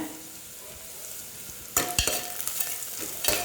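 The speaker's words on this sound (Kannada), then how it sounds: "ಈರುಳ್ಳಿ ಹಸಿಮೆಣಸಿನ್ಕಾಯಿ ಕರ್ಬೇವಿನ ಸೊಪ್ಪು ಓಕೆ ಈರುಳ್ಳಿ ಸ್ವಲ್ಪ ಬೇಯಲಿ" Onion, green chili and curry leaves fry in a pan for a bottle gourd dal. A quiet background sizzle jumps into a louder crackling burst partway through, with a few stirring knocks.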